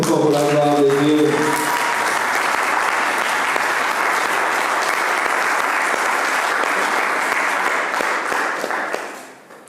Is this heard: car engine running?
no